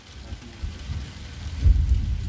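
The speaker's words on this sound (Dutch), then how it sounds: "Donderd ook nog." Low rumble of thunder rolling beneath steady rain during a thunderstorm on a road trip back to Friesland, building louder toward the end, with no one talking.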